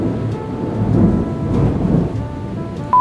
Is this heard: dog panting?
no